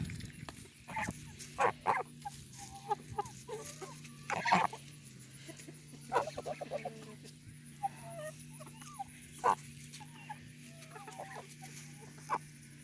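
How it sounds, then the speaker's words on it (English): Dominique chickens cluck and chatter nearby in a flock with geese, with scattered squawks and a honk or two rising over a steady low farmyard hum. "So that was our flock of Dominickers with the geese"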